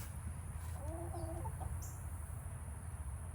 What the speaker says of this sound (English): And the chickens are still doing good.